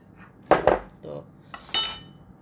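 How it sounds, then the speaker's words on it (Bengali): Utensils clink and scrape against a bowl while rice flour is mixed into an egg mixture for egg pitha, a few short metallic knocks and scrapes close by in a quiet kitchen. "এখন চালের গুঁড়াটাকেও আমি এই মিশ্রণের সাথে ভালো মতো মিশিয়ে নিব।"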